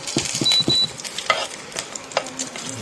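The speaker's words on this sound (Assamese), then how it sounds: "শুকান জলকীয়া তেলত দি ভাজি এতিয়া ফুলি যাব" Dried chillies fry in hot oil with light sizzling and scraping stir strokes in short, close bursts.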